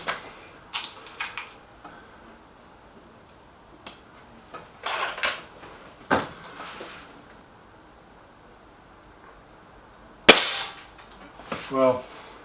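Air rifles, a Gamo Whisper X and a BSA Lightning SE, fire several sharp, snappy shots spaced apart. Clicks and handling noises fall between the shots, and quiet talk can be heard at times.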